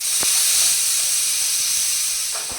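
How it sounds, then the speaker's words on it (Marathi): Steam hissing steadily out of a pressure cooker as its pressure is released after cooking mung beans, a continuous loud airy rush with a couple of faint clicks and no talk. "कुकरची हवा काढून घेतली"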